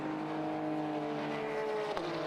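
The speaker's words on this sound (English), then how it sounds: "He's trying to lap some of the quicker Class 2 cars, so he now goes past Pete Morris." Porsche race cars on the Silverstone circuit during a Porsche Club GB race, engines holding a steady loud drone as cars pass close by, with a brief sharper burst near the end.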